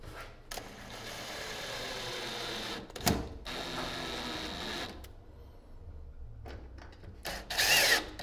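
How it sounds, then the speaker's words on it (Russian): A power drill driving screws to fasten a board during house construction near a NORDIC TEC underfloor heating manifold, with several sustained whirring runs broken by short stops and a louder high burst near the end. "Прикручиваем нашу доску."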